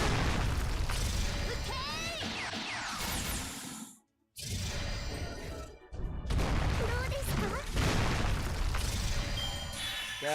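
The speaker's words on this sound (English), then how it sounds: "They have mortars built into their chassis." Mortar explosions launched by creatures in a video game: loud, repeated booms and whooshing blasts crowd a dense, continuous battle din, broken by two brief near-silent gaps.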